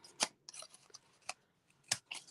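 Scissors snipping Designer Series paper, a few quiet, crisp, separate cuts with soft paper rustle between them, close and faint, with no talking.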